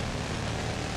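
Helicopter engine and rotor noise in the video game Battlefield 3 multiplayer on Wake Island, a brief, steady broadband roar with a low droning hum and no speech.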